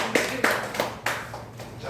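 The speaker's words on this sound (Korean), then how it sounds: "힘내시라고 박수 한번 해주세요." A church congregation claps hands together in a loose, uneven rhythm, moderately loud, with a few sharper claps standing out from the rest.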